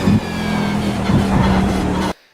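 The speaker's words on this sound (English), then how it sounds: "I'm very hard on the brakes. And I'm going to turn the car in and just grab a little bit of the right-hand curb" Race car at Motegi braking hard and turning into a right-hand corner, a loud steady engine drone with tire scrub that cuts off abruptly near the end.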